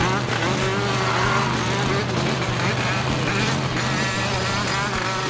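Odd, warbling engine drone from a racing vehicle in the PS2 game Jimmy Neutron Jet Fusion, a steady wavering hum that runs the whole time under game noise and a talking voice.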